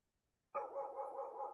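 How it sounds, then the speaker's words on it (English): A dog barks after half a second of silence, then keeps up a steady run of barking and yelping for the rest of the moment, fairly close and clear, with no one talking over it. "there's a dog barking"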